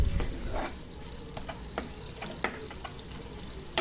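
Ladle stirring and mashing boiled potato with fried dry red chilli in a pan for aloo chokha, giving soft scraping and squelching with a few sharp clicks of the ladle against the pan, close and fairly quiet, no talk.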